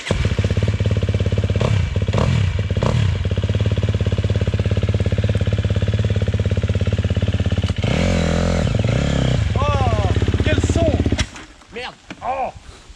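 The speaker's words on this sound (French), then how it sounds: "il est temps d'aller démarrer cette jolie petite moto" A small motorcycle, a newer-generation model with push buttons, runs loudly and steadily with a low throbbing engine note, revs climbing and falling near the end before dropping off, while a voice talks over it.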